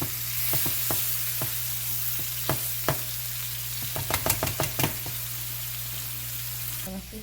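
A spice-rubbed steak sears in a frying pan with a steady close sizzle, while sharp clicks and taps of a utensil against the pan break through in an uneven run.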